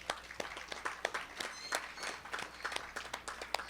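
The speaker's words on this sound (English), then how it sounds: "Can we give them a round of applause?" Scattered applause from a small audience at a live podcast panel in a local craft brewery, individual claps sounding sparse and distinct at low volume rather than as a full ovation.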